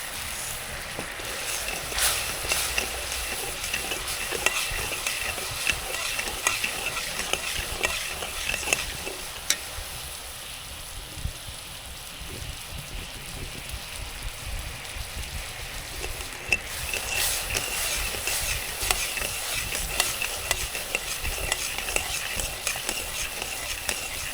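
Sugar syrup for sesame gachak is stirred in a pan, with continuous scraping strokes over a soft bubbling sizzle. The sound is moderately loud and dips briefly midway, with no talking.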